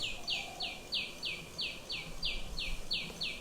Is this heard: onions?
no